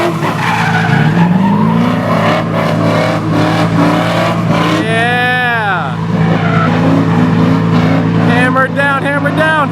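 A BMW E36 slides through a drift, tires squealing in rising and falling arcs over a revving engine, with a second burst of skidding near the end and shouting voices underneath.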